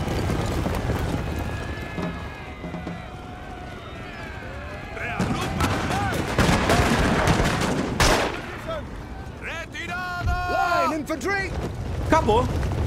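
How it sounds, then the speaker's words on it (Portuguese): Musket volleys crackle in a Napoleon: Total War battle, with bursts of massed gunfire and booming shots over battlefield din and hoofbeats, while someone talks over the noise. "Esses caras não vão aguentar uma saraivada de tiro."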